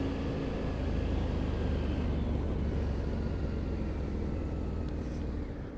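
A 2013 Harley-Davidson Night Rod Special on a test ride, its engine a steady low rumble blended with wind and road noise, loud and continuous for several seconds with no talking.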